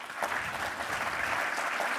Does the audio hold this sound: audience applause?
yes